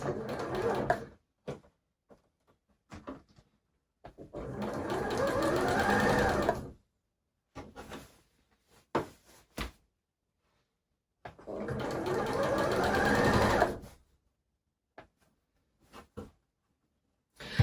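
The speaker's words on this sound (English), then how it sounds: "So remember now, we're sewing from the outside, the right side." A domestic sewing machine runs in two long, steady bursts while sewing bias binding onto fabric, with scattered short clicks and stops between runs and no talking.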